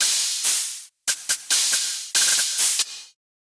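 Bursts of loud white noise hiss in a choppy pattern, cut on and off by abrupt silences before stopping completely.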